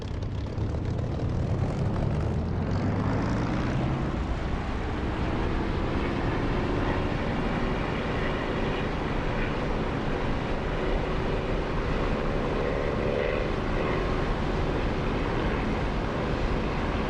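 A propeller aircraft engine in the DCS flight simulator throttles up, a loud continuous drone whose pitch climbs steadily over the first several seconds and then holds a sustained roar.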